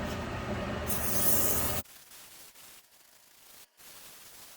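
Sandpaper of 80 grit on a wooden dragon egg spinning on a lathe gives a loud, close, rushing hiss for about two seconds, then drops to a much fainter steady hiss.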